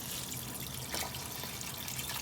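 Water from a jug pours steadily into a cooking pot holding green mangoes, a continuous splashing gush that stays close and even for its whole short length, with no talking.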